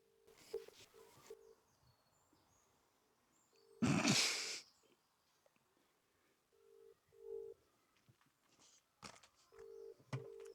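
Phone ringback tone on a call going unanswered, repeating short buzzy tones in faint regular bursts with quiet gaps between, a louder rustle partway through.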